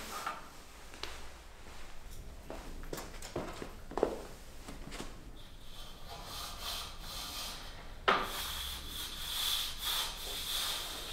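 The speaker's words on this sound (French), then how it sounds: "il s'est remis à pleuvoir, donc mon rail est tout mouillé. Donc je vais l'essuyer" A wet metal rail for a custom interior glass-panel partition is wiped dry, giving soft irregular rubbing strokes with a few sharper knocks, then a brighter steady hiss toward the end.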